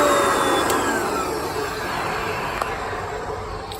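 A Hoover Concept One U3105 vacuum cleaner with a two-speed motor runs nearby, giving a loud, steady roaring whir that slowly eases slightly in level.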